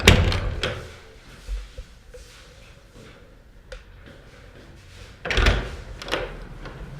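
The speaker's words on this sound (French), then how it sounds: "ferme la porte, s'il te plaît." A door being closed, with a couple of thuds at the start and a louder bang with rattling toward the end, separated by quieter room noise.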